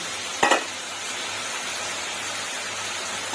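Pieces of chicken breast sauté in a hot pan for a pizza topping, giving a steady, close sizzle with a brief clatter of stirring near the start.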